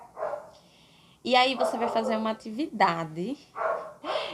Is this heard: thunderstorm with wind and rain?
no